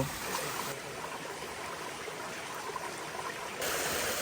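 Water rushing in a stream near Bandari waterfall in the Bangladesh hills, a steady broadband roar that stays constant and close throughout, with no talk.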